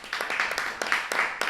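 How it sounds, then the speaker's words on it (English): Applause from a small audience at a live talk about performing artists: a handful of people clapping in uneven, loose rhythm, fairly close, with voices murmuring faintly underneath. "one more round of applause for all the women that do go underappreciated as well"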